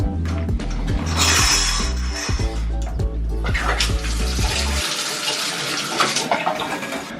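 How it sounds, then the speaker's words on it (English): Water running steadily and loudly from a home shower, a dense continuous hiss with some rhythmic thumping at first, then an even spray with no talking. "I think I'm gonna have a shower right now."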